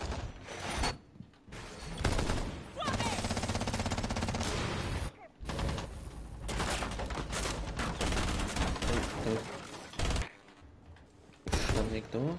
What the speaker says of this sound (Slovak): Top G tam strieľa s Koffinom.